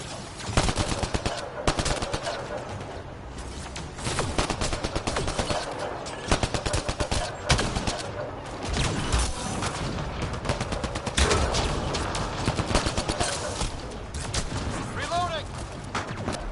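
Dense bursts of rapid gunfire crackle through a firefight in the Mass Effect Andromeda video game, loud and nearly continuous with brief gaps, and a voice speaks intermittently underneath.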